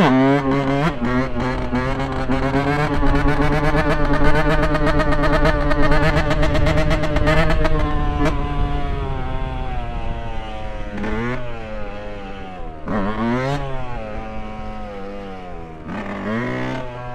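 KTM four-stroke supermoto motorcycle engine under riding, a close, loud tone that holds high and steady and then drops and surges through several rises and falls of engine speed, with no talk.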